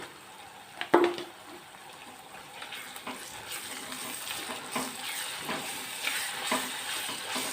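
Ginger garlic paste frying with onions in a pan, a soft continuous sizzle with a sharp clank of a spoon early on, then repeated quiet stirring scrapes, close and fairly gentle.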